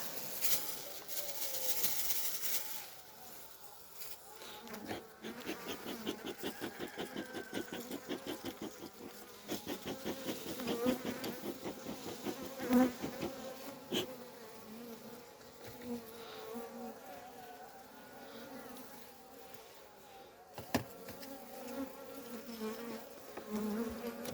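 Dense, steady buzzing of many honeybees swarming around an opened beehive during beekeeping work, close and continuous with no talking.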